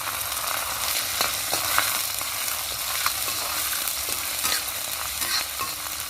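Finely chopped garlic, ginger and chilli fry in hot oil, giving a steady close sizzle broken by scattered clicks and scrapes of stirring, with no talking.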